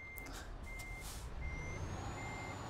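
In Euro Truck Simulator 2, a truck's reversing beeps sound in slow, evenly spaced pulses over a low, steady engine drone, with a brief hiss of air release near the start.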